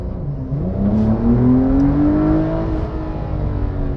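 A 2020 Porsche 911 Carrera 4S (992) engine revs up hard in Sport Plus mode with the exhaust valves open, a rising, raspy exhaust note, then settles into a steady loud rumble.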